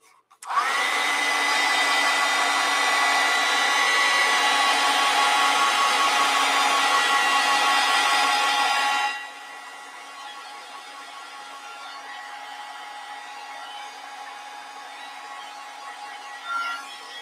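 A hair dryer blows loudly and steadily over a watercolor painting for about nine seconds, then cuts to a quieter lower hum until the end, with no talking.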